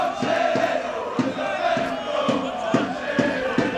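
A boisterous home rugby crowd at Cardiff Met roars continuously, with rhythmic drumming or clapping beating steadily under the dense, close cheering.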